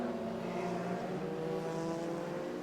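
Lotus Cup race cars lap Zolder circuit over a crest toward a chicane, a steady, continuous engine drone with layered harmonics, loud and sustained from start to finish without speech.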